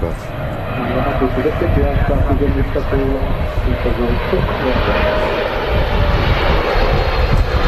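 A Qatar Airways Boeing 777 in FIFA World Cup livery lands at Manchester Airport, its steady jet roar rumbling loudly throughout while someone talks over it.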